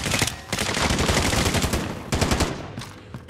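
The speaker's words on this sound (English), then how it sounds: "I am under fire." Loud, close rapid automatic gunfire in a first-person shooter video game, sustained bursts with brief gaps, no voices over the shots.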